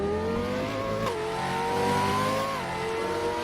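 A Lamborghini Roadster engine revving in the Driving Empire video game, a loud, steady high-pitched whine that rises and dips as the revs shift, heard alone.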